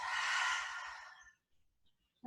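A single deep exhale during yoga breathing, a long breathy whoosh that fades over about a second, followed by near silence.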